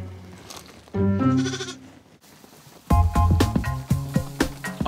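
A lamb on a paddock bleats twice, loud and close: one long wavering call, a pause of near silence, then a second, harsher bleat broken into several pulses.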